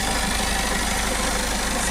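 A 2016 Peugeot Boxer van's 2.0-litre diesel engine idles steadily up close, a loud, constant mechanical rumble with no other sounds over it.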